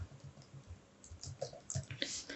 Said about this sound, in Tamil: பட் நான் டைப் பண்ணிக்கிறேன்